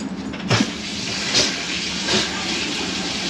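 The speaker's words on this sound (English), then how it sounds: "So let's run some water." Hot water running from a faucet into a newly installed drop-in sink, a steady close hiss of flow that starts abruptly with a clunk of the handle and continues alone.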